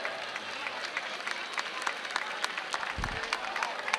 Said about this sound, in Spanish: Ese aplauso para los amigos del tablero